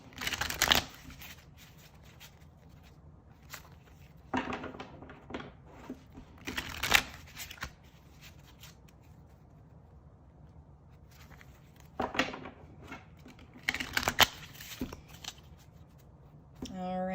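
Oracle cards are given a quick shuffle, with sharp crackling riffles and snaps arriving in separate bursts between quieter stretches, close and fairly loud, with no voice over them.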